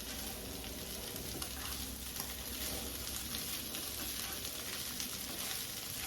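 Kosher salt is stirred into chorizo and potatoes frying in a pan, with a steady, dense sizzle running unbroken throughout and no talking.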